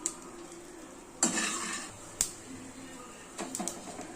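A spoon stirs mini idli with curry leaves and cashews in a pan, with faint scraping and a few clattering knocks over a soft sizzling background.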